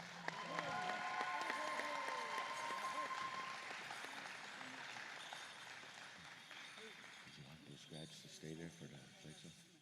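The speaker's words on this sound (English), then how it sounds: "big round of applause to your graduates" Sustained applause from a large crowd honoring graduates at an Indigenous graduation celebration, dense clapping that fills the hall and slowly thins toward the end, with cheering mixed in.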